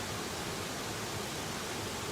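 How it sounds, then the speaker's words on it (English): A waterfall pours in a steady, close, unbroken rushing roar that fills the whole clip without pauses. "That lovely waterfall."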